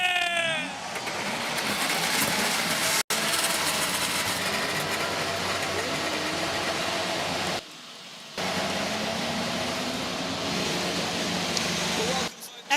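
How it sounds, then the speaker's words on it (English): IndyCar race car engines at the Gateway 500 fire up and run loud and steady at the start of the race, with a brief sharp cut near three seconds and dips later as the roar continues. "Engines are fired."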